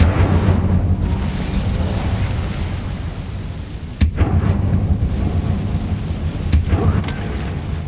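In the Hogwarts Legacy video game on PS5, a fire spell roars as a loud, continuous rumbling blaze with a sharp crack partway through and scattered pops afterward.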